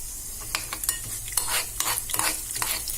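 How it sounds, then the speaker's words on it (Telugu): Cumin, chana dal and other tempering spices frying in a pan for curd rice, a constant sizzle under quick repeated stirring scrapes of a spoon, near and without talk. "కొంచెం జీలకర్ర ఇవన్నీ బాగా వేయించుకోవాలి"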